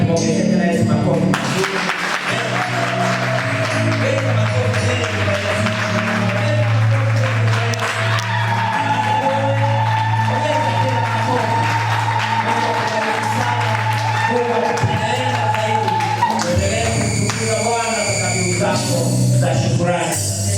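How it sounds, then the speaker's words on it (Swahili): A congregation at a Swahili thanksgiving church service gives long, sustained clapping that fills the room, with music and voices going on underneath. "Tumwongezee tena Yesu makofi."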